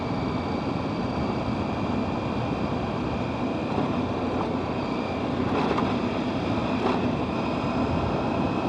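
Husqvarna Norden 901 Expedition adventure motorcycle riding off-road through woodland trails in a wildlife management area, a steady broadband engine and wind roar running continuously at close range, with no talking.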